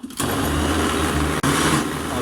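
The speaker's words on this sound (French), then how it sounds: "là je fais un houmous façon rabinou, ok." A food processor blends chickpeas for hummus with a loud, steady motor whir close by. The motor cuts out for a split second partway through, then resumes at full power.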